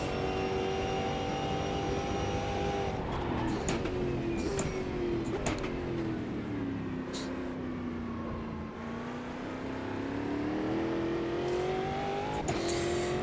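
A race car engine in the racing sim Automobilista 2 drones steadily through a lap, its pitch dipping as the car slows and climbing again under acceleration, with no talking over it.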